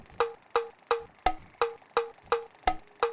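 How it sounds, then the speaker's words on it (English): Faster 170 BPM metronome from the video game Yeeps, nine sharp clicks in quick, even succession, each with a brief pitched ring, every fourth click carrying a heavier, lower accent. No voices. "If I change it to something like 170, it will sound more like this."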